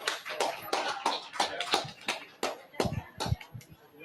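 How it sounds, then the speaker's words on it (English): An audience at a veteran and small business trade show gives scattered, fairly faint applause, uneven claps from a modest crowd that thin out toward the end. "Please give them a round of applause."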